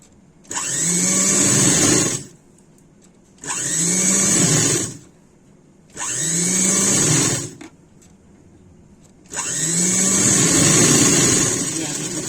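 An electric sewing machine stitching a blouse runs in four loud, steady bursts of whirring motor, each about two seconds long, separated by short pauses, close by and without talk over it.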